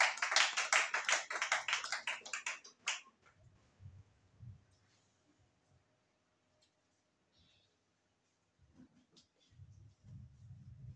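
A church congregation claps together during a service, brisk dense clapping for a few seconds, then quiet with faint murmuring and low voices.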